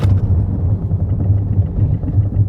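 A 2023 Mazda CX-8 seven-seat SUV brakes hard from 100 km/h, giving a steady, loud low road-and-tyre rumble throughout with no talking.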